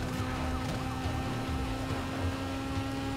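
A police car siren wails in Need for Speed Most Wanted, its rising and falling sweeps looping steadily over a constant engine and road drone from the racing game for about three seconds.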